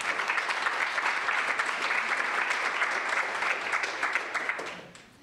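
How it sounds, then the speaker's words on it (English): A sports banquet crowd applauds steadily, a dense even wash of many hands that fades out in the final second. "you can clap now."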